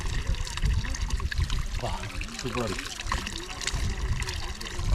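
Fresh spring water trickles and gurgles down from the hills in a continuous close stream, with a person speaking briefly over it.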